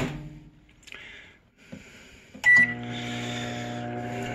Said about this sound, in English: we're going to put it in the microwave for just a few more seconds